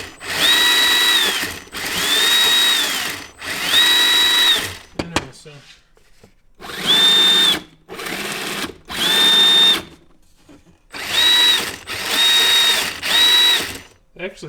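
A hobby electric motor on a speed controller runs in repeated throttle bursts of about a second each, spinning up with a steady high-pitched whine and cutting off between pulses, loud and close.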